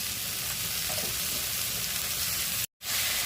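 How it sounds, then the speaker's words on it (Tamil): Mint leaves and salt sauté for vegetable biryani with a continuous, even sizzle and faint stirring, broken by one brief silent gap near the end. "மின்ட் லீவ்ஸ், தேவையான அளவு உப்பு சேர்த்து வதக்கிடுவோம்."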